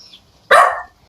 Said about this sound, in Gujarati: જોજો કૂતરા બુતરા ના કરડે